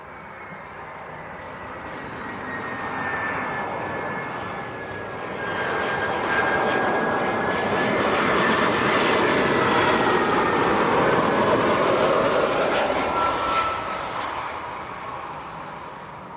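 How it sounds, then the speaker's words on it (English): An EasyJet Airbus A319 airliner on short final about half a mile out on approach to Leeds Bradford Airport, its jet engines roaring steadily louder as it nears and passes close overhead, with no talk. "EasyJet on short finals, Tom."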